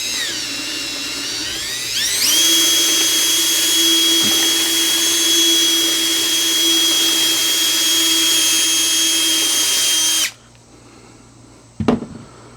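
A power drill whines as it bores and taps a hole for an oversized bolt, starting up in a rising spin and then holding a loud, steady high-pitched drone for about eight seconds before stopping, followed by a brief metallic clatter.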